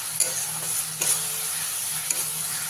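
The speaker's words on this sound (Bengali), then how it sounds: "এবারে ভালো করে মশলাটাকে কষিয়ে নিতে হবে" Masala stir-fried for kochur loti curry in a pan over a medium gas flame gives a steady close sizzle, with a few sharp spatula scrapes and clicks standing out against it.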